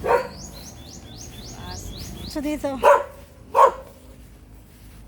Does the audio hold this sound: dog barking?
yes